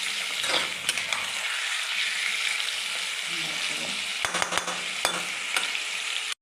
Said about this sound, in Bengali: মাংসটা একটু তেলের মধ্যে ভেজে নিলাম ভালো করে নাড়াচাড়া দিয়ে।